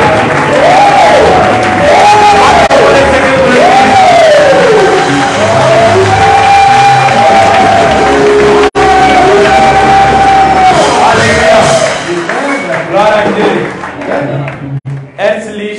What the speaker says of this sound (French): on va faire une très forte acclamation au nom de Jésus